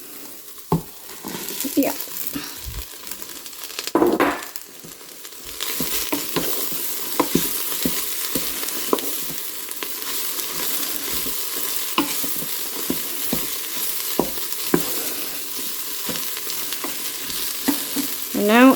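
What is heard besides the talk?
cabbage frying and being stirred in a pan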